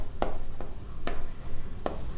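Pen or marker strokes on a board during a Class 10 maths lesson on pairs of linear equations, a few brief scratchy taps spaced about half a second apart over a low steady room hum, no talking.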